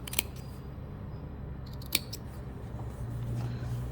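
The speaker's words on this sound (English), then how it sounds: "Just go and clip the corners." Scissors make two crisp, close snips while clipping the fabric corners of a sewn apron, with quiet room background between the cuts.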